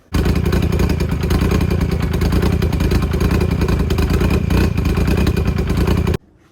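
A loud, cammed car engine fitted with new 1300cc fuel injectors runs steadily throughout, a rough continuous rumble with slight revving, then cuts off abruptly near the end.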